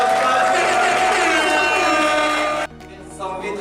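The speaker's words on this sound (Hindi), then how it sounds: "एक बार जोरदार ताली से अभिनंदन करना चाहूंगा।" An audience at an event claps loudly to welcome guests, a dense burst of applause that cuts off abruptly near the end, leaving quieter room noise.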